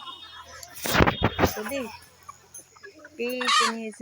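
Chickens cluck and call nearby on a poultry farm, a few loud, drawn-out squawks standing out, with brief speech mixed in.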